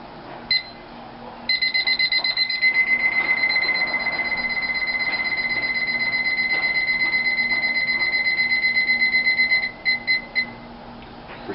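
Continuous electronic timer beeping for about eight seconds, with a few short separate beeps before and after, the timer being set for a nail-bending session.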